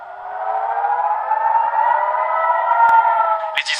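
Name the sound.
air raid sirens sounding in Jerusalem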